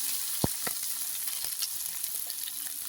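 Ginger, garlic and cumin paste hits browned onions in a pan over a village clay stove, giving a steady hiss of frying with a few sharp spits and pops; no talking.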